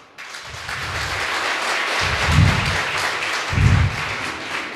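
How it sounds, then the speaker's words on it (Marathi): A live audience at a Shivajayanti powada performance claps for the announcer, a dense continuous wash of applause with a couple of louder low thumps swelling within it. "निवेदन करणाऱ्यासाठी एकदा जोरदार टाळी"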